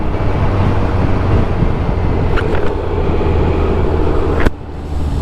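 A Can-Am Ryker three-wheeler with a CVT transmission cruising at around 40 mph, its engine holding a steady high-revving drone under heavy wind rush, ending with a sudden bump and a drop in the noise.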